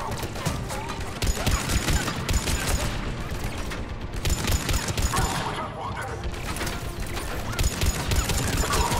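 Heavy gunfire from a gun in the video game Mass Effect 3 comes in dense bursts across a loud, cluttered battle mix, with brief lulls between volleys.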